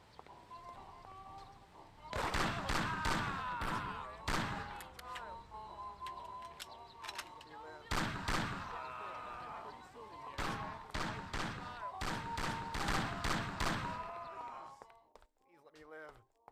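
Machine gun fire in Mafia: The City of Lost Heaven comes in loud, rapid bursts, several separate volleys with short pauses between them and game sounds underneath.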